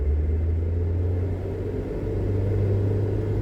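Ford Transit van engine held steady at about 3,000 RPM in first gear, a constant low drone with a rumbling hum, close and even for a few seconds.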